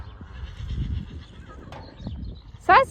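A horse whinnies loudly near the end, with soft hoof clip-clop and rustling earlier in the clip.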